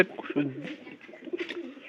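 Domestic pigeons give soft, low cooing calls close by, interleaved with quiet talking.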